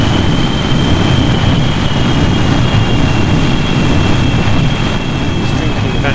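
Steady, loud roar of a jet engine on afterburner in the Kerbal Space Program game, a continuous broadband rush with a faint high whine, unbroken for several seconds.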